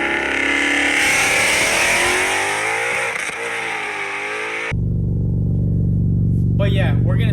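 A supercharged 2015 Ford Mustang fitted with a ProCharger P1SC at the drag strip roars hard and loud under acceleration, then settles into a deep, steady engine drone close to the microphone.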